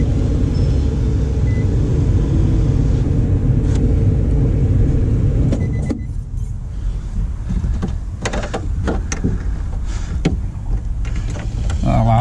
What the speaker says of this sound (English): I need to run the window up